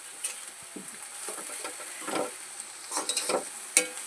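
Jackfruit curry frying in a new kadai brings a low sizzle and repeated scraping stirs of a spatula against the pan, uneven and close, ending with a sharp metallic clink, with no talking.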